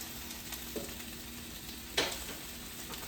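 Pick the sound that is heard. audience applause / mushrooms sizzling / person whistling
mushrooms sizzling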